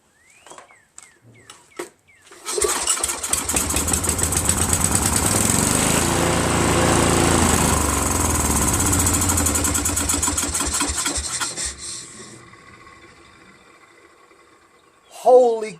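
An Exmark Metro 36 commercial walk-behind lawn mower engine catches after a few faint pulls, roars into a steady loud idle for about ten seconds, then fades down, with a brief shout at the end.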